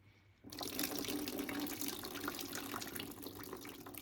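Water pouring steadily into a plant container during late-night watering, a continuous close splashing and filling rush that starts abruptly and runs evenly to the end.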